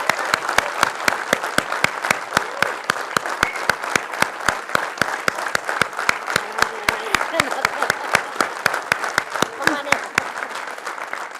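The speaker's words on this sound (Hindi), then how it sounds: "ताली ताली ताली रुकना नहीं चाहिए।" An audience at an Atomy India felicitation event keeps up its applause, many hands clapping in a steady, strongly rhythmic unison beat, with voices talking beneath the clapping.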